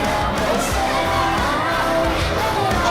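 A dense wrestling-event crowd roars continuously, with high shrill shrieks and shouts from children piercing the steady wash of noise for the whole stretch.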